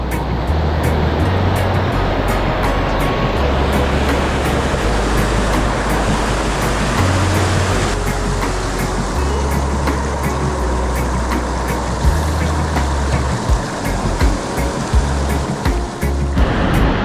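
Rushing river water on Réunion island, heard along a night trail route, with a steady broadband wash that continues without a break. Low rumbles and thumps sit underneath it, and no voices are heard.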